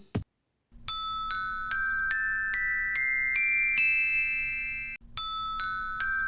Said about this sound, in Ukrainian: це звук металофона